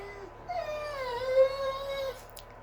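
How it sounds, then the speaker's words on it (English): Dog whimpering in a long, rising and falling whine lasting about two seconds, fairly close and alone, with a steady low hum underneath; no distinct bark stands out. "One dog is crying, the other dog is barking."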